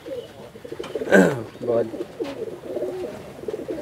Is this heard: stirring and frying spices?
no